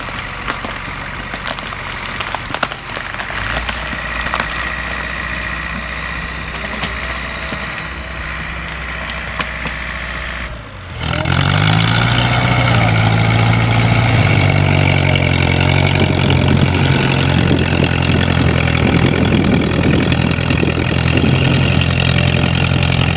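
A Belarus MTZ-80 tractor's diesel engine runs steadily, then around the midpoint it revs up and settles into a louder, heavier drone under load while clearing young acacia, continuing to the end.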